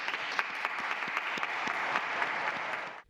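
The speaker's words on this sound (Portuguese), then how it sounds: "A todas as mães, uma grande salva de palmas." A crowd applauds all mothers with a full, steady round of clapping, moderately loud and dense, holding evenly before stopping abruptly.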